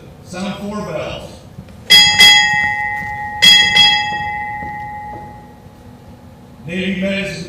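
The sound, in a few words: Navy ship's bell rung four times at ceremony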